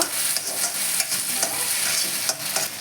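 Pui mitholi (Malabar spinach stems) frying in a pan on a medium flame with a little sugar, stirred by a spatula: steady bright sizzle with repeated scraping strokes, close and continuous, no talking.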